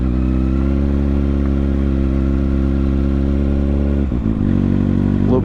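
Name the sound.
Kawasaki Ninja ZX6R motorcycle engine accelerating in second gear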